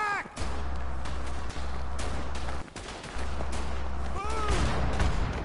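Bolt action rifles fire in the video game Verdun, with scattered sharp cracks and distant booms over a low rumbling battlefield drone, and a few whistling shells overhead.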